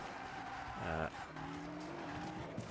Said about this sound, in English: I do have engine sound